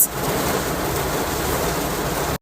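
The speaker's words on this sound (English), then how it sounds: "I'm stuck in the rain" Steady rain falls outdoors, a dense, even hiss that holds at constant loudness throughout and then cuts off abruptly.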